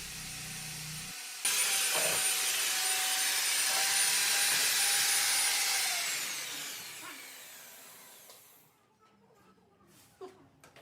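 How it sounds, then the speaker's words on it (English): A core drill cutting a 3-inch hole through a wall for an AC installation, a loud high whining grind that starts abruptly, holds steady for several seconds, then winds down and fades, leaving faint knocks. "So the core cutting is done now."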